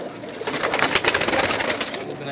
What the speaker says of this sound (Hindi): और ये मेरे स्लेटे कबूतर हैं।